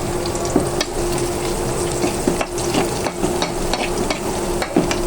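Shing fish sizzling and being stirred in a frying pan with biryani spices, a steady loud fry with scraping stirs and occasional knocks throughout.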